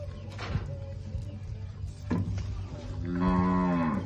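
A young heifer lets out a single drawn-out moo near the end, close and fairly loud, after a stretch of low barn noise and a few bumps while she is being artificially inseminated.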